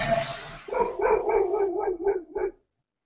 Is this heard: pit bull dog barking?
yes